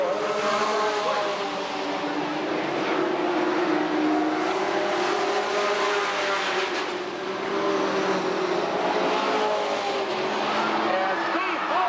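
Sportsman race cars roar around a short oval at Redwood Acres Raceway, their engines droning and rising and falling in pitch as they pass, with an announcer talking over the action.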